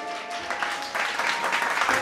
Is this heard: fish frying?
no